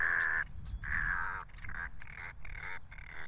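Roseate tern calls to its chick on an island of the St Brandon archipelago, a series of five or six harsh, rasping cries in close succession, loud and near, with no talk.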